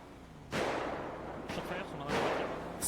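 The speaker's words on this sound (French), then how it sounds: "Fusillade vient d'être déclenchée entre les Albanais et la police Nord." Gunfire erupts in a GTA RP video game shootout between a gang and police, heard as three rough, noisy bursts of rapid fire over a steady background hum.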